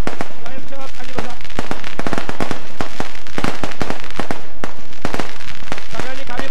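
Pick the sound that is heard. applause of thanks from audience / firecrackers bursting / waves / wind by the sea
firecrackers bursting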